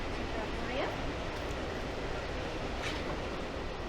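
An Amtrak passenger train rides on the rails with a constant rumbling roar, faint clicks and a brief squeal heard from inside the car, under low voices.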